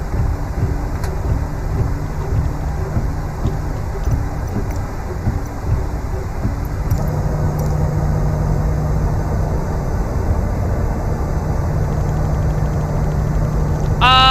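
Simulated PMDG 737-800 jet engines hum steadily while the airliner taxis, a sustained low drone with whining tones and breathy wind-like noise, close and even in level.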